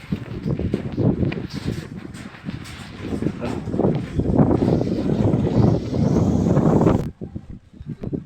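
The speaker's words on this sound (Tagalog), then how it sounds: "Malakas lang yung hangin eh." Strong wind roars and buffets the microphone for about seven seconds, then suddenly drops to near quiet.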